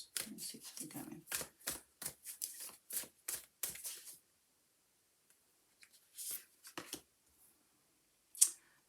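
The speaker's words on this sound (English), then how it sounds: "So let's just shuffle these ones and see where we're going." Oracle cards being shuffled for a reading: a run of quick, crisp riffling bursts for about four seconds, then a quieter stretch with a few scattered soft card flicks and taps, close and alone.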